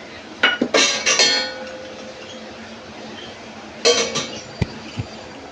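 Metal lid set on a pot of simmering rohu fish curry with potato and greens: a couple of sharp clanks and rattles, a lingering ring, then another cluster of clinks and a few light taps.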